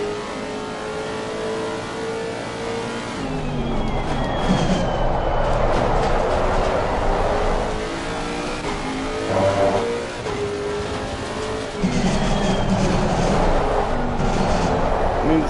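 A GT3 race car engine revs, downshifts and accelerates around Watkins Glen in the Assetto Corsa Competizione racing game, with rising and falling engine pitch and gear changes, loud and continuous.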